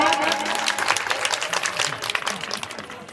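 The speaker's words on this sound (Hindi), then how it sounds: "पहले आप लोग जोरदार तालियों से स्वागत करें" A crowd gathered for a Bhagavat Katha recitation applauds loudly, many hands clapping in a dense, continuous wash with faint voices mixed in.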